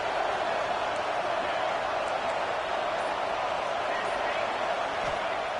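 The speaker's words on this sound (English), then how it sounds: "the crowd really making some noise now, trying to help out this defense to get this stop near the goal line" A stadium crowd in a college football video game roars as a steady, dense wall of noise near the goal line, with commentary talk running over it.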